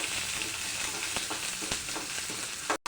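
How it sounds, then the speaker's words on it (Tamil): Small shallots sauté in a pan for sambar, a steady close sizzle with several sharp clicks and scrapes from stirring before it cuts off abruptly. "சின்ன வெங்காயம் இந்த மாதிரி கொஞ்சமாக வசங்கின உடனே"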